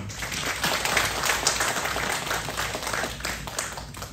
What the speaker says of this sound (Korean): 우리 박수로 한번 영광 돌리면 좋겠습니다